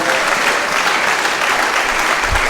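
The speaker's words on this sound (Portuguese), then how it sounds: "Uma salva de palmas para esse bebê." A church congregation applauding a newborn baby, thick continuous clapping from many hands filling the room at close range, steady and loud throughout the short burst.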